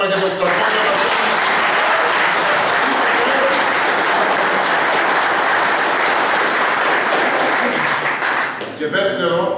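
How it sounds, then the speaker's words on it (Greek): Audience applause from a crowd at an evening gathering in Arnaia, a steady loud wash of clapping lasting several seconds before tapering off at the end. "Ένα χειροκρότημα για τον στρατό"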